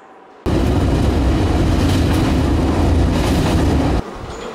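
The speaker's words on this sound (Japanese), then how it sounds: "ちょっとこれから、まあ、少し列車に乗って海の方へ。" A train in Osaka rumbles along steadily from inside the carriage, a loud constant clatter and hum of wheels on track that begins abruptly and fades down near the end.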